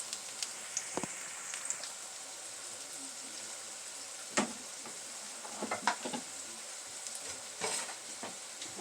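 Onions frying in a pan for a coconut curry sauce: a soft, continuous sizzle with scattered sharp crackles and occasional stirring knocks, close by and fairly quiet, with no voices.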